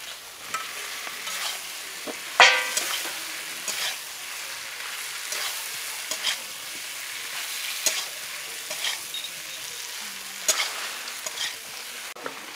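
Fried potatoes go into a sizzling spice masala in a pan, with a continuous low sizzle and spaced, fairly quiet stirring scrapes, one sharper clack early on.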